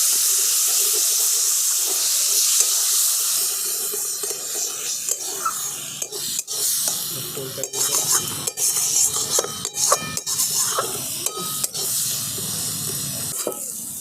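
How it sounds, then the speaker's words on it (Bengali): A spice paste with tomato, yogurt and a little water sizzles loudly in a pan as it is stir-fried, with continuous frying hiss and repeated sharp scrapes and clinks of the spoon stirring through it. "সমস্ত কিছু আমি একসঙ্গে খুব ভালো করে অল্প একটু জল দিয়ে কষিয়ে নিচ্ছি।"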